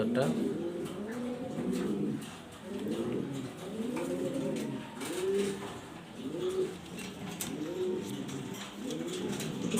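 A pair of black Danish exhibition pigeons coo in a steady series of soft, low, rolling calls, each a few seconds apart, close by and moderately loud over a faint background murmur.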